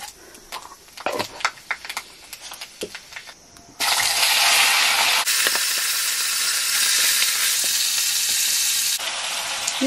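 Fenugreek seeds and a spice mix crackle and sizzle loudly in hot oil for a pork curry, with scattered pops and clatter at first, then a sudden dense, steady frying hiss that continues close and strong.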